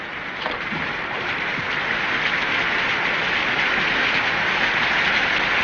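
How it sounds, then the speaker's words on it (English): Rain falls steadily in a dramatic street scene, a dense, even hiss that stays loud and unbroken throughout, with no voices over it. "Cabs are scarce in this rain."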